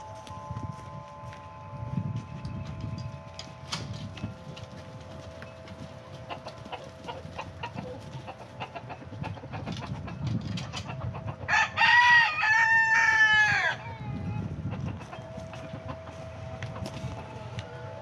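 Backyard chickens cluck steadily over a low rumble, and a rooster lets out one loud, close crow about two-thirds of the way through before the clucking resumes.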